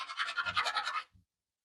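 A faucet part rubbed back and forth on sandpaper laid on a flat surface, a close, fast rasping scrape for about a second, followed by a brief faint knock.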